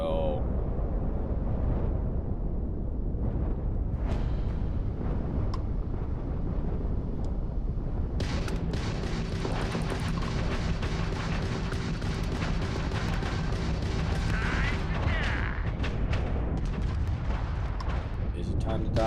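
Spaceship weapons firing in Starfield during a fight with pirate ships, heavy booming blasts and a dense roar of shots over a steady engine drone, with someone talking throughout.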